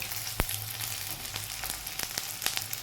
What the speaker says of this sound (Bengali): তাহলে আমি আগে উচ্ছেটা ভেজে নিই ভালো করে